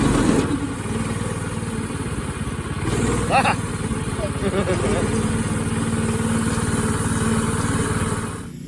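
A small engine on a kid's go kart hums and idles steadily close by, its low drone running under a voice giving instructions.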